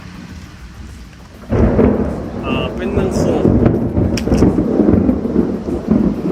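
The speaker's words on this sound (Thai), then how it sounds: "โอ้พายุเริ่มมาแล้วครับคุณผู้ชม" Thunderstorm setting in at the start of the rainy season, with a sudden onset of dense rain and rumbling thunder that swells and holds steady, loud and close, while someone talks over it.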